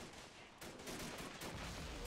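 Dense, continuous machine gun fire from a WW1 video game battle at Fort de Vaux, a dug-in MG position raking attackers, the rapid bursts loud and unbroken throughout.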